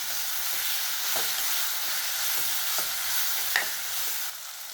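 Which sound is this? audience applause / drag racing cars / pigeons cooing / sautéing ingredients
sautéing ingredients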